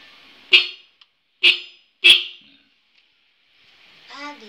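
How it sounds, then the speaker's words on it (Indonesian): Three short, loud blasts from a Denso car horn fitted to a motorcycle come in quick succession with silences between, followed by someone speaking briefly. "Klakson saya menggunakan merek Denso."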